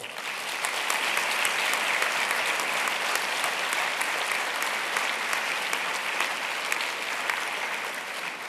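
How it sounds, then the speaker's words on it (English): A head teachers' annual conference audience gives a steady, sustained round of applause, a thick wash of clapping from a large hall crowd lasting several seconds with no talk over it. "I invite you to acknowledge them with a round of applause too"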